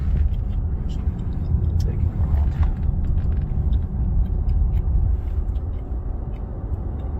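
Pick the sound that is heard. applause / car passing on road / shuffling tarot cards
car passing on road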